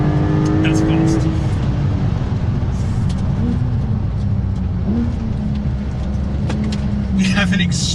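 A Porsche 911 Turbo S of the 992 generation pulls hard around a tight, twisty test track. Its engine roars continuously and loudly from inside the cabin, with rising and falling tones as it accelerates through the gears.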